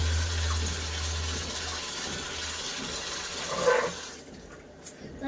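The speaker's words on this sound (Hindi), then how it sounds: "हाथ धो लिए हैं।" Tap water runs steadily into a sink during handwashing in a home kitchen, a soft continuous gush that fades out near the end.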